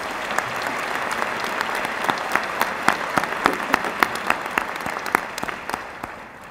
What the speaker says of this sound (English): One more round of applause for all the outstanding student award recipients.